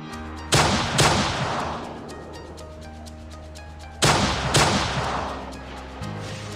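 Napalm strike explosions in Call of Duty Mobile, two pairs of loud, sharp blasts several seconds apart, each followed by a long crackling, rumbling decay over a steady low game hum.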